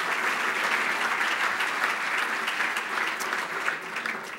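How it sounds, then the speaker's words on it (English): Sustained applause from a crowd, steady and fairly full throughout with no voices standing out. "let's give a round of applause for our local sources."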